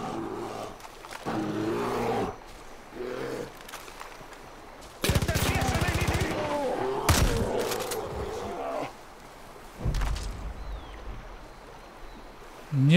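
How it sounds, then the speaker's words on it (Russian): Machine gun fire in the video game Far Cry 5, heard as loud rapid bursts, with gaps between them and other game sounds around. "Но пулемета быстро кончаются патроны."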